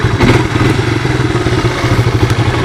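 A 1985 Honda ATC 250SX three-wheeler engine idling close by, a loud, lumpy, rhythmic putter with mechanical clatter and uneven thumping pulses, running steadily for a few seconds with no voices.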